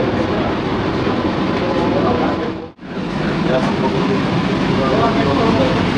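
Running from Ranaghat to Sealdah, West Bengal's first AC local train makes a loud, steady rumble with light wheel clatter. It drops out briefly midway, then resumes, while people talk over it.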